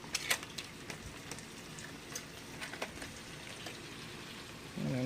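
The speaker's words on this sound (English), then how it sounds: "You can hear them sizzling away" Food sizzles while cooking, giving a faint, steady crackle dotted with sporadic small pops. The sound stays quiet and even throughout, with no voices over it.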